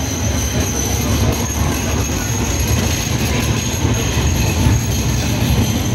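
A tram passes close by in Sydney's city streets on a foggy day, a loud continuous rumbling roar of rolling wheels with faint high squealing tones held throughout.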